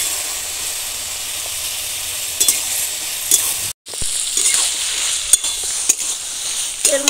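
Vegetables being stirred and sautéed with a paste of chilli powder and ground cumin in a pan, a steady close sizzle with scraping spatula strokes and clinks and a brief break midway.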